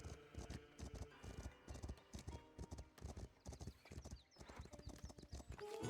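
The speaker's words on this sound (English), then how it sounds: "Wow, that's a lot of horses." Many horses clip-clop in the medieval settlement-building game Foundation, a dense, steady patter of hooves, close and loud, with an occasional faint whinny and no talking.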